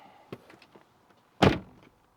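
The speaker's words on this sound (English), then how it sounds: "Now we need to close the door" A single solid car door thunk on a 2001 Toyota Camry, close and loud, after a few faint clicks and rattles.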